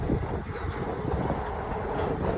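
A slow train rolls past on rural tracks near a cattle pasture, giving a steady, close rumble of rail cars with a faint clatter and no speech.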